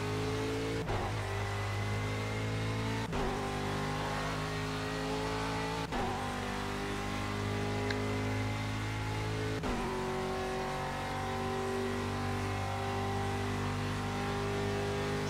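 Aston Martin V8 Vantage GTE race car at Le Mans in the Project CARS racing game, its engine droning loudly and steadily throughout, with several sharp gear-shift breaks where the pitch drops and climbs again under acceleration.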